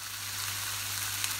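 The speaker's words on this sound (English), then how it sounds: "I'm just frying this" Food frying in a Morphy Richards oval slow cooker, a steady close hiss of sizzling with a low hum underneath, continuous throughout.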